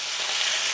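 Oxtail searing in a hot pot in a home kitchen before braising, a brief, close, steady sizzle of frying with no voices.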